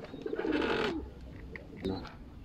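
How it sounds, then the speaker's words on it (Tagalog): A bird kept by pigeon fanciers coos close by in a quiet setting: one soft, rolling call, then a shorter, fainter one. "Napakagandang ibon nito, mga master."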